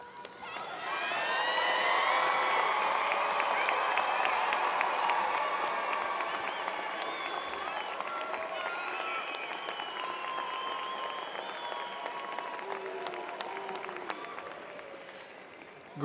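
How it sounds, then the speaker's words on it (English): A large commencement audience at a fall university graduation applauds steadily, a dense sustained wash of clapping with some cheering that swells early, holds for many seconds and slowly fades. "join me in applauding those here and not here"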